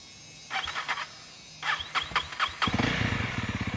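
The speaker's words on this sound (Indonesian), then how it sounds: "Lalu untuk suara mesinnya, kurang lebih seperti ini. Coba dinyalain." A Honda CRF250L motorcycle engine cranks in two short bursts, then catches and settles into a steady, throbbing idle, close and fairly loud.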